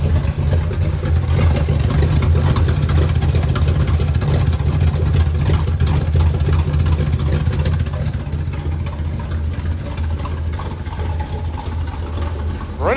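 A Dodge Dart's V8 engine runs at a steady idle, close and loud, its deep low rumble holding even and smooth throughout with no clatter.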